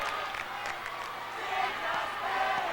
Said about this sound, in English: By Bonnie Kukro, really got the crowd going.